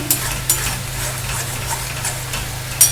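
Spice masala for a vegetarian dhoka dalna being stir-fried in a pan, a soft steady sizzle with periodic spatula scrapes against the pan, close and without talk.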